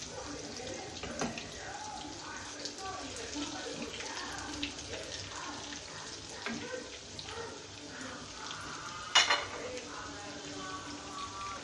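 Potato pakoras sizzle steadily in hot oil while being turned over, a continuous crackling hiss with light clinks and one sharper clatter near the end.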